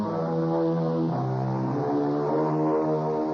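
Propeller airplane engine sound effect from a 1960 radio detective drama: a steady, close, droning hum with slight swells in pitch, heard alone.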